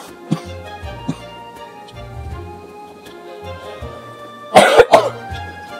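A person coughs during a Town of Salem game session, with a couple of short isolated coughs early on and then a louder close-up burst of several coughs near the end over a faint background hum.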